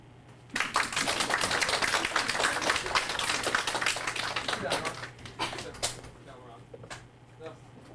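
Classroom audience applause, a dense burst of clapping that starts abruptly and keeps going for several seconds before thinning out into scattered claps. Voices are mixed in under the clapping.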